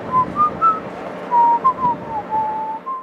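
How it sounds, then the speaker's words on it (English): The Yankee Doodle tune is whistled in a clear, steady melodic line near a naval fort, carried on a gusty breeze with light wind noise underneath and no voices. "you could hear Yankee Doodle floating on the wind"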